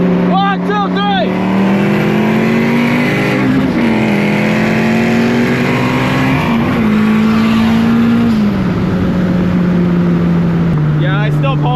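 Supercharged Ford Mustang with a Whipple blower drag racing a sleeper Honda Civic, a loud steady engine drone climbing through the gears with brief shift dips, heard continuously from inside a car.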